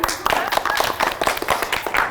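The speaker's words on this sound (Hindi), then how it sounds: "दे ताली" Audience at a college pageant show claps in a quick burst of overlapping hand claps, fairly close, with a voice sounding faintly underneath.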